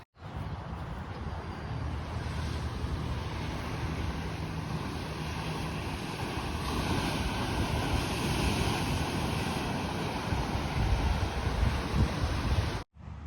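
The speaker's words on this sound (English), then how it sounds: "looking out at the ocean" Ocean surf and wind on the Oregon coast make a steady broadband roar, with wind buffeting the microphone and waves rumbling continuously and fairly loud throughout, with no talking.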